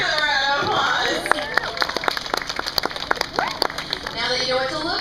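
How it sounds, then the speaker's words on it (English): An aquarium dolphin-show crowd claps in a dense patter of many hands, fairly loud and close, mixed with crowd murmur and a few voices. "Honestly, let's give a round of applause."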